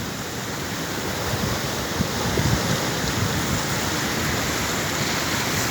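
Continuous roaring surf from Pacific waves breaking on a rocky shore, a dense, loud, steady wash of noise with no voices.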